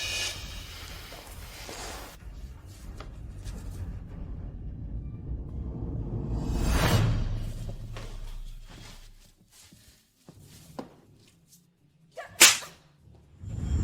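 Sharp slaps to the face in an Indonesian drama, two loud, crisp smacks several seconds apart, the second a quick doubled crack, among quiet rustles and low background noise.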